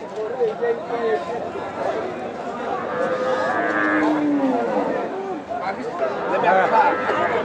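Cattle, including bulls and calves, low and moo repeatedly amid a busy livestock market crowd at Ramganj market in Nilphamari, with people chattering and calling out nearby.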